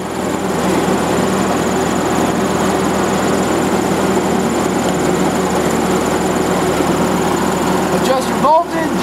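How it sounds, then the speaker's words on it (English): A WWII anti-aircraft gun generator runs with a steady droning engine hum throughout, joined by a brief clatter near the end, while a voice talks over it. "let's turn the generator on"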